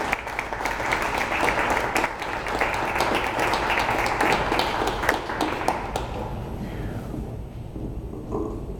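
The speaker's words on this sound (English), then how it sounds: "I'd like to have some applause for Lourdes." Audience at a community meeting applauding, a steady wash of many hands clapping for several seconds that thins out and fades near the end.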